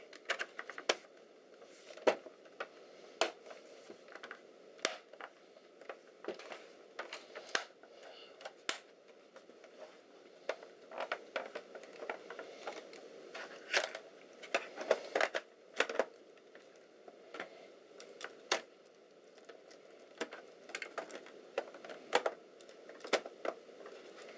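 A Clevo 5620p laptop keyboard is pressed and fitted back into place, giving irregular close plastic clicks and taps, scattered sharp snaps among softer rattling handling noise.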